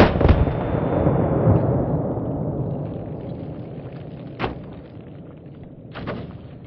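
A Zastava M85 AK pistol in 5.56 fires one sharp, loud shot close by at a DVD target outdoors. A long echo rolls away after it, followed by a couple of fainter knocks.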